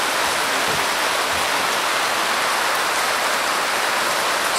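Steady rain falls on a farm in broadband hiss, continuous and even throughout, with no voices.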